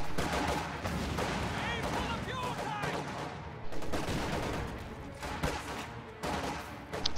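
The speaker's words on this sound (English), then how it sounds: "MG34 trying to apply a little bit of pressure" MG34 machine gun fire in Company of Heroes, rapid rattling bursts repeating through the stretch amid other battle noise, with a voice talking over it.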